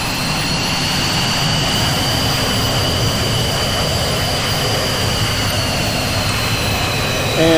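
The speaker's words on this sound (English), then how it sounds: "alright, we're going to start with engine number 1" Jet engine number one of an aircraft in the VTOL VR flight game winds up with a rising turbine whine layered over a rumbling drone, loud and steady with no talking.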